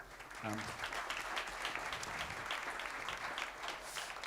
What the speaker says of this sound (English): He's absolutely deserves a round of applause.